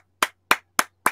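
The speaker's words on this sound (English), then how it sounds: "Ladies and gentlemen, big round of applause." Four sharp, evenly spaced claps ring out close and clear at the end of a music interview, each a crisp isolated smack with silence between.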